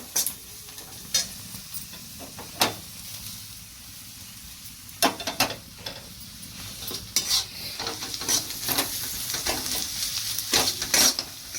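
Onions fry on a low flame in a pan for baingan bharta, a soft steady sizzle punctuated by sharp, irregular scrapes and clicks of stirring, close and fairly quiet.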